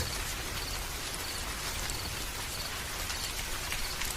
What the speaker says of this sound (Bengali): পথে যে বৃষ্টিতে পড়লাম